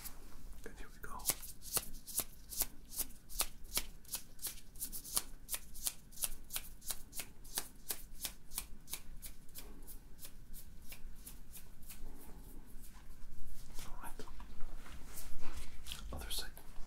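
Fingers click repeatedly beside each ear during a cranial nerve hearing test in a doctor roleplay, a steady run of sharp, close snaps that continues throughout with a faint soft voice underneath.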